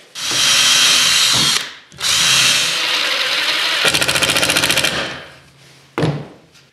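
A power drill drives a 1.5 inch screw through the center support of a wooden box joint jig, running in two loud sustained bursts and then a rapid ratcheting clutch stutter before it winds down, followed by a sharp knock.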